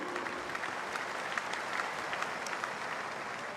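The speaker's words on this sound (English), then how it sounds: "I think another round of applause is in order." Audience applause at an RMIT University graduation ceremony, a sustained crowd clapping in a large hall, even and moderately distant, with scattered sharper claps and no talking.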